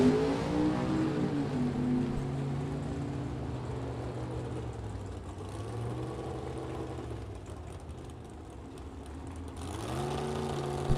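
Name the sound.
vintage drag race cars, supercharged Chevrolet Nova, racing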